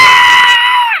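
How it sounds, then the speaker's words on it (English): A woman's ear-splitting scream of anguish as huge spikes are hammered into her eyes: one loud, shrill, sustained cry lasting about a second and trailing downward at the end. "just like an ear-splitting, horrifying scream of anguish as huge spikes are nailed into this woman's eyes"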